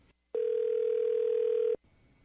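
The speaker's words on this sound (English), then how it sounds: "The phone's ringing." A telephone sounds one steady electronic tone lasting about a second and a half, clean and loud against near silence, starting and stopping sharply.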